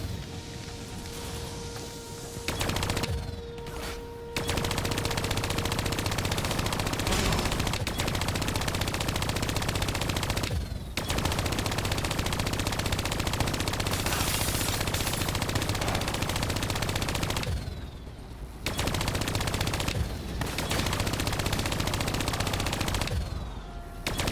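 Sustained machine gun fire in Call of Duty: Black Ops III, loud and dense bursts running almost continuously with a few short breaks between volleys.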